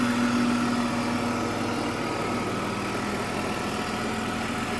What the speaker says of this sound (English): Just ticks over so smoothly